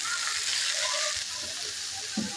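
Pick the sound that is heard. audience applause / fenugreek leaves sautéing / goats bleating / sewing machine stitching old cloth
fenugreek leaves sautéing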